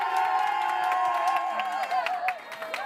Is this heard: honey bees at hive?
no